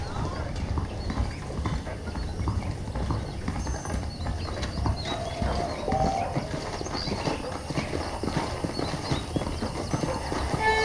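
Horse hooves clip-clop in a steady rhythm in the Red Dead Redemption video game, saddled horses moving along under a faint background bed, with an occasional brief whinny.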